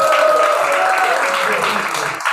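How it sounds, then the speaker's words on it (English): An open mic crowd claps and cheers for a poet coming to the stage, a dense wash of applause with voices mixed in that fades toward the end. "Give it up for him! Keep clapping, he's here."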